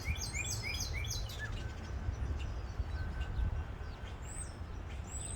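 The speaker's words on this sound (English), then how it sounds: "the bird making that noise right now is a cardinal." A cardinal repeats a series of clear, sliding whistled notes, bright and fairly near, over a constant low rumble of background noise.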